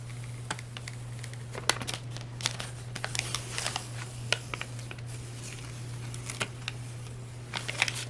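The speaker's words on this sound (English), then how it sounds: "when you pull the stencil, you want to pull it up nice and slow" A vinyl stencil is peeled slowly off a coir doormat, making scattered, close crackling ticks and faint tearing over a steady low hum.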